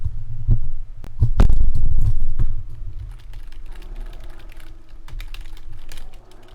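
Close-up fingers typing on a computer keyboard in an ASMR style, with a burst of heavy, thumping key strikes early on, then lighter, scattered clicks continuing alone with no talk.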